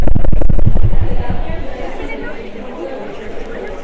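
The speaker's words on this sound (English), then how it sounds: "It's a little hard to hear with all the crowd noise" Crowd noise at a high school basketball game, a loud babble of many voices with close talking and thumps early on, easing to a steadier hubbub.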